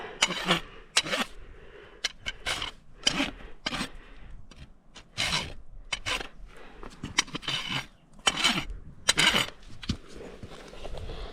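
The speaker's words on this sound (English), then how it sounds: "here I am just using the smooth side of my rasp to smooth it all out" Rhythmic rasping strokes scrape across a horse's hoof as the smooth side of a farrier's rasp files it down during barefoot trimming, a close, steady series of sharp rubbing bursts with no talk.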